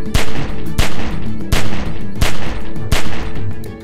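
Loud, evenly spaced gunshots ring out in The Walking Dead: 400 Days, about five sharp reports over a few seconds, each followed by a short echoing tail.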